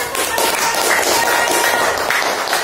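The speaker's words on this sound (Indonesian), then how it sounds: "Ya, beri tepuk tangan." A classroom of students gives a short burst of clapping, dense and fairly loud, continuing steadily for a couple of seconds.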